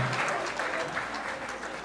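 Guests at a wedding dance party applaud in honour of the bride's late father, a continuous crowd clapping that holds steady and full throughout, with a faint voice underneath.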